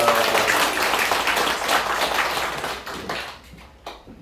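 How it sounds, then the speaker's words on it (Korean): A church congregation applauds the choir with a full, busy burst of clapping from many hands that thins out and fades toward the end, with no talking. "예수 찬양대를 위해서 다시 한번 크게 박수하겠습니다"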